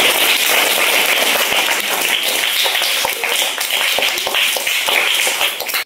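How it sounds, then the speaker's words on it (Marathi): A schoolroom of pupils claps loudly and continuously to welcome a visiting guest, dense applause filling the whole stretch before cutting off at the end. "आपण त्यांचं शाळेच्या वतीने जोरदार आपण टाळ्या वाजवून स्वागत करू"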